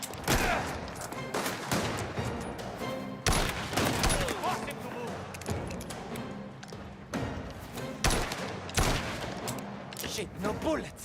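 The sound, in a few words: gunshot, from the video game Mafia: The Old Country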